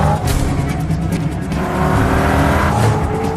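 A stolen car races at speed during a chase, engine roaring loud and close with tires squealing and skidding throughout, dense and continuous.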